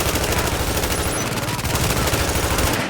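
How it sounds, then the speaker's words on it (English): Heavy gunfire in the video game The Division, rapid automatic bursts firing continuously and loudly, layered over a dense combat din that barely lets up. "With all that gunfire drawing the Rikers' attention"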